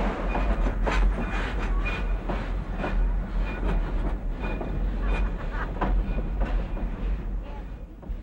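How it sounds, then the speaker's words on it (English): Shay geared steam locomotive number 12 hauls its train back over a trestle and upgrade, a steady loud rumble of wheels with rhythmic clickety-clack beats and faint squeals, continuous throughout. "shay number 12 has run around its train at Georgetown and proceeds back over the trestle and upgrade"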